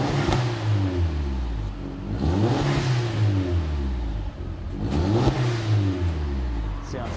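A Volkswagen GTI fitted with a new exhaust revs up twice, each pull rising to a deep throaty roar and then falling back to idle, heard up close with no talk over it.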